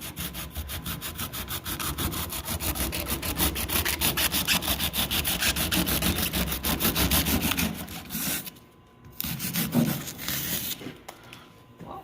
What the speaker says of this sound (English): saw blade and we're gonna cut it flush and see what it looks like